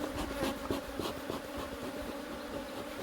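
Honeybees buzz steadily in an open hive during an inspection of a colony, a dense close-up drone with scattered louder individual passes and faint rustling throughout.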